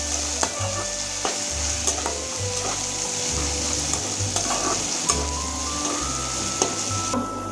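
Onion and garlic frying in a pan, a constant close sizzle broken by repeated scraping stirs of a spatula, roughly once a second, loud and alone with no voices.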